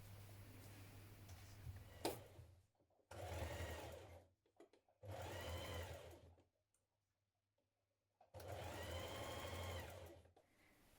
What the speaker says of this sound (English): you're going to stitch your inner leg seam like this